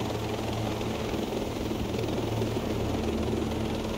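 A helicopter in the Ghost Recon Breakpoint video game drones steadily at night. The constant rotor and engine roar stays even and unbroken from start to finish, with no voices.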